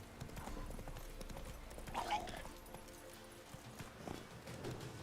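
A horse in The Witcher 3: Wild Hunt Remastered clip-clops along in quick rhythmic hoofbeats, faint and steady, with a brief whinny-like swell midway and a voice talking over the game sound.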